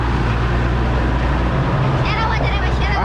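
A vehicle rumbles slowly through the crowded Sagorika cattle market in Chittagong, its low engine drone steady and close beneath busy market chatter and people calling out.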